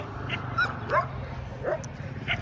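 Several dogs fighting, with scattered high yips and whining barks in quick irregular bursts at moderate distance over a steady ambient hum.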